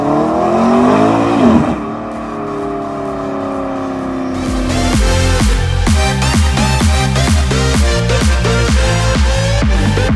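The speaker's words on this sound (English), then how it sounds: "I think there's a couple of more of them driving past here" Supercars and classic cars on a road trip rev and accelerate past, loud engine tones rising and falling, then a rapid rhythmic pulsing of engine notes as several vehicles go by close up.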